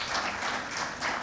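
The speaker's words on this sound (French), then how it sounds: "je demande à l'instant d'applaudir très fortement" Brief burst of audience applause at an alumni gathering in Senegal, a soft blur of many hands clapping at moderate distance, with no talk over it.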